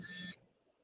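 A single electronic buzzer alarm sound effect blares for about a third of a second as a bright, harsh tone, then cuts to near silence.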